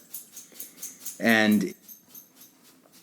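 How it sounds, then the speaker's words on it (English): A dog scratching indoors makes a brief burst of rough scraping and jingling, like a collar tag rattling, lasting about half a second, close by and louder than the surrounding speech. "That's my dog scratching."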